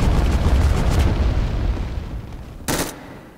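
Six volleys of fireworks launched in PUBG Mobile on a Lunar New Year event map set at the Great Wall, heard as dense rumbling booms and pops that fade out, followed by one short, loud crackling burst near the end.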